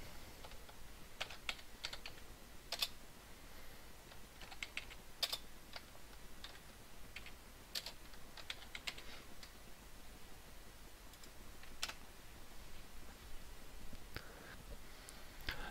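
Quiet typing on a computer keyboard while entering text into a PowerPoint slide: soft, irregular key clicks with a few louder taps, faint and close against a low background hiss, with no voices.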